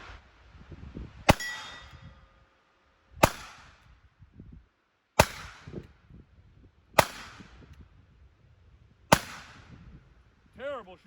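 Webley Mark VI .455 revolver fired five times, sharp loud cracks with ringing metallic tails spaced about two seconds apart, separated by quiet handling noise.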